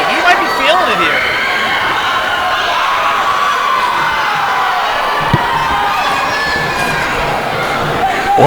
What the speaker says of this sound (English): Laurel fans seem to be cheering